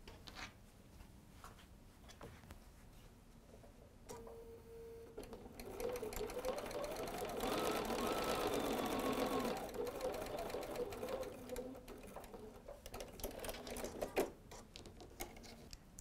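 Sewing machine stitching fabric for a quilted baby bib, a steady mechanical whirr that runs for several seconds, swells in the middle and then eases, close and clear with no talk over it.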